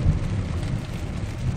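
Steady rain noise and tyre hiss on a wet road inside a moving 2018 Hyundai Santa Fe TM, a continuous broadband wash with low rumble throughout, no voices.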